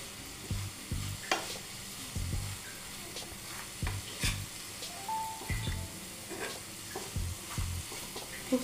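Modak filling is stirred together with powdered sugar and cardamom in a pan, giving quiet, irregular scraping and mixing strokes with soft knocks spaced through the stretch.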